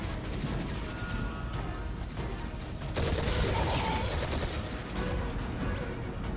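Gunfire in Destiny 2 erupts as a dense, crackling burst of shots over constant game ambience, loud and close, continuing as a rattling barrage for several seconds.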